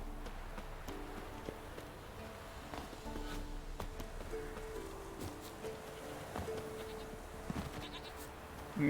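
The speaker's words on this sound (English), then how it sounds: "whenever you hear a goat bleating" A goat bleats several times in The Witcher 3, short bleats scattered over steady game ambience and low background rumble, moderately close, with a sharper burst near the end.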